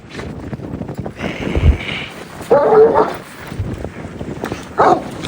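Dogs whimper and yelp close by in short bursts, with scuffling and shuffling movement in the background.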